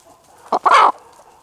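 An Asil–Shamo cross hen with a little Ganoy in her gives a short cluck, then a longer, louder clucking call right up close, with a quiet pause before and after.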